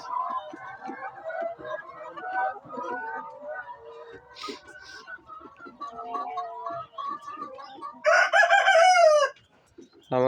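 A rooster crows loudly and close among layer hens kept on the floor of a poultry shed, following a stretch of soft hen clucking and cackling.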